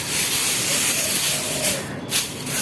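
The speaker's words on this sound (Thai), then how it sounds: "คั่วไฟไล่ความชื้นอีกระดับหนึ่ง" Sun-dried Mexican kale leaves roast in a dry pan over a fire, giving a steady, fairly loud broadband hiss with a brief dip and a swell near the end, and no talking.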